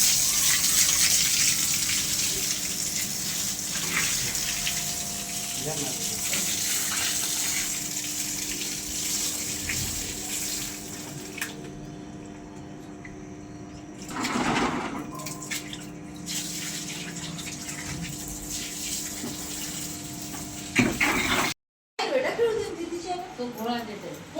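Water runs steadily from a tap or is poured for washing in a home kitchen. It is a continuous gush heard close up, with voices talking over it throughout.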